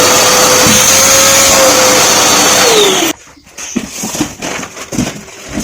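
An Inalsa Homeasy WD10 wet-and-dry vacuum cleaner roars loudly and steadily with a high whine, then cuts off abruptly, leaving quieter room clatter and handling noises.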